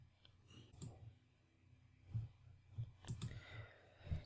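Sharp computer mouse clicks come in a loose, irregular run, several taps spaced unevenly over a few seconds and heard close up against a quiet room background.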